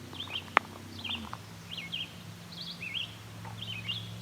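Ring-billed and herring gulls call overhead in a loose series of short, thin cries spread across several seconds, fairly faint against a low background hum, with one sharp click early on.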